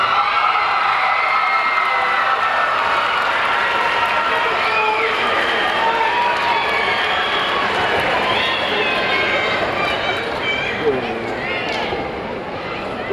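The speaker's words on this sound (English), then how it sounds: "please rise and give them a round of applause" A large audience at a 2005 Milford Mill High School graduation ceremony rises to applaud and cheer for the graduates' families, with a dense, sustained roar of claps, whoops and shouting that fills the hall without letup.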